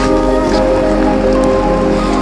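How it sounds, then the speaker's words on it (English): Light morning drizzle falls outdoors near Kanazawa Castle in cold weather, a steady soft hiss of fine rain with no distinct drops, continuous and even throughout. "It's slightly drizzling again."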